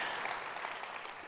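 Audience applause at a Netroots Nation 2015 talk: a steady, even wash of clapping with no voices, held at a fairly faint level for its brief length.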